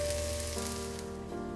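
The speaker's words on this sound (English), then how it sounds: "Fry well until the water is gone." Food fries in a pan until its water cooks off, a steady close sizzle with faint crackle running throughout, part of preparing a vegan Japanese temple-style breakfast.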